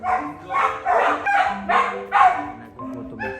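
A dog in Korea barks close by in a quick series of about half a dozen sharp, rhythmic barks, ending with a couple of softer yips.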